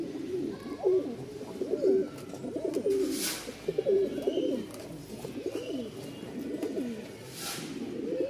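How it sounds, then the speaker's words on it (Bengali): A black crested male pigeon at the Mirpur pigeon market cooing in repeated rolling bursts, close and clear, with a faint busy market murmur behind it. "ফাটাফাটি ডাকের একটা নর, ডাক দেখলেই বুঝতে পারবেন। আসেন একটু ডাকটা দেখাই"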